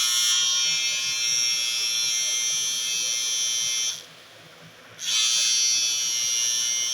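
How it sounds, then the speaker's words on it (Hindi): A Philips 3000 series trimmer motor runs with a steady, close, high-pitched electric buzz that drops out briefly for about a second before resuming at full strength. "दोस्तों मोटर की साउंड जैसा आपकी सुनाई दे रही होगी कि बहुत ही ज़्यादा फास्ट जो है मूवमेंट हो रहा है ब्लेड्स का"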